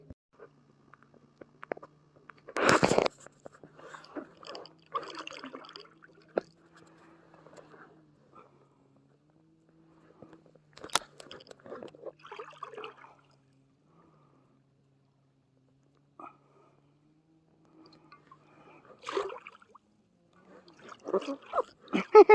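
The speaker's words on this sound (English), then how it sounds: "I'm trying to row with one hand, paddle with one hand." A kayak paddled one-handed at camp, with scattered splashes and trickling drips between long quiet gaps, plus one louder splash near the start.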